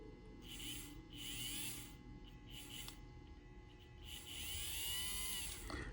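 Small electric motor of a model locomotive whirring as power is applied, a faint high whine that surges in several bursts, rising and falling with throttle, no talk over it.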